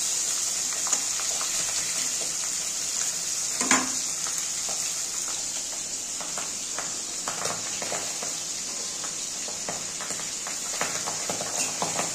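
Pabda fish frying in a wok (kadai), giving a steady close hiss of sizzling oil with scattered small pops and crackles, no voices.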